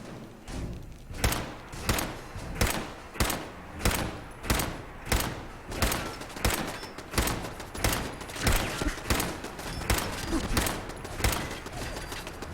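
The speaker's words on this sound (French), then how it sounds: "fais-toi tirer dessus par les tourelles" Automated turrets in the Fallout 4 video game fire repeated gunshots, loud regular bursts of thudding shots roughly every half second, continuing steadily without pause.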